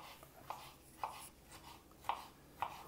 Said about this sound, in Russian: Огурчики режет.